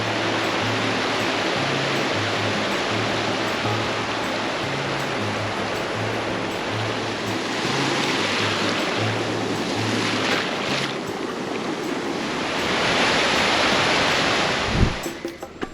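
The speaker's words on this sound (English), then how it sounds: "The waves are a bit strong here, but it's fun once you get used to it." Ocean waves break on a South Goa beach in a constant, surging roar that swells louder toward the end, with a faint low hum beneath and no one talking.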